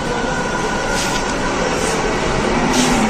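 A train at Howrah station rumbles steadily close by, with faint wheel squeals rising briefly over the constant rolling noise.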